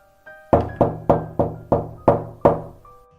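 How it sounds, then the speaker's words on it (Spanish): Seven firm knocks on a bedroom door at night, evenly spaced about a third of a second apart, close and loud in an otherwise quiet room. "en las noches, en ocasiones, le tocan la puerta del cuarto"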